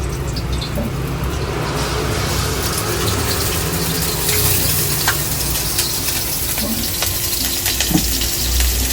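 Seafood fried rice frying at a cafe in Ubud, Bali, a steady, dense sizzle and hiss of wok cooking that holds at an even level throughout, with faint clatter near the end and no talk.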